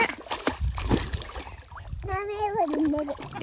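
A child learning to swim kicks and splashes in water, producing intermittent sloshing splashes beneath nearby voices and a brief high tonal sound.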